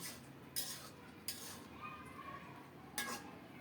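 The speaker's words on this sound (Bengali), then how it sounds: "এখন ভালো করে নেড়ে দিচ্ছি" Spinach, prawns and potato being stirred in a cooking pot. A soft bubbling bed is broken by three sharp utensil clinks against the pot, faint and close.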